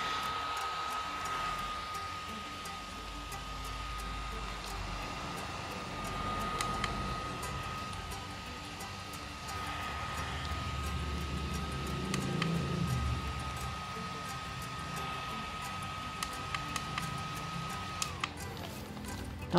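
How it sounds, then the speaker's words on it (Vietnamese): A small cooling fan built into a phone case, running at its third speed setting, gives a steady, close whir with a thin high whine held throughout. Faint handling knocks sit near the end. "Mức 3 thì quạt cái vòng quay nó lớn hơn rất là nhiều"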